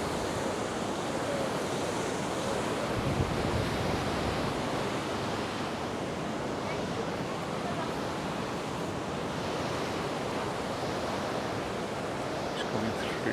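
Sea waves breaking on the beach at Paguera, Mallorca, a steady, dense wash of surf that rolls on without pause, close and fairly loud, with some wind noise mixed in.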